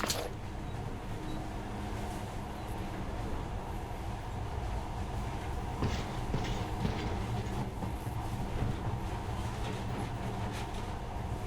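A monorail train runs steadily in the video game Metro: Last Light, a continuous rumbling rail drone with faint rhythmic clacks and rattles throughout, no talking.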